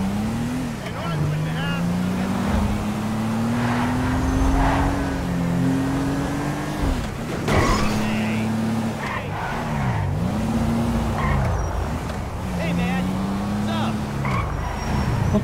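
A slow car in GTA V drives steadily with its engine droning and shifting pitch through gear changes, with scattered bumps and skids, while someone talks over it throughout.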